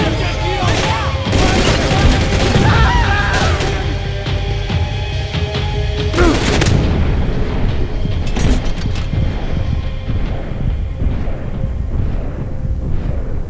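Gunfire in the video game Max Payne: bursts of sharp shots and booming blasts crack over a dense, noisy backdrop, loud and close, with several distinct heavy hits.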